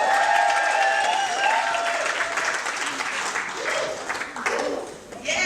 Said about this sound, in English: ladies, a round of applause.